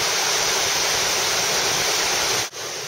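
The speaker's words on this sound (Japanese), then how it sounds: "この滝の横の" A waterfall beside a trail staircase near Lake Louise on a Canadian trek roars as a steady, loud broadband rush close by, with a brief dip near the end.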